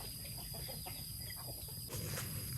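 Faint clucking from several chickens in a coop, soft and intermittent against a constant background hiss, heard from a short distance.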